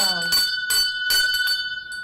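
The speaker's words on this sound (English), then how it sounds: "So I have to ring the bell." A bell rung to honor a third-place finisher in a cycling race, giving steady sustained ringing tones over a couple of seconds while a voice talks across it.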